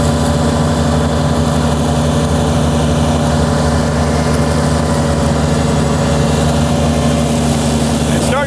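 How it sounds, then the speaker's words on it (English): A Kubota BX tractor engine running with its mower deck lowered and a TerraKing TKV20 hopper attached, a loud, close, steady droning hum with a constant pitch and no breaks. "we're taking our tractor here, dropping our mower deck down."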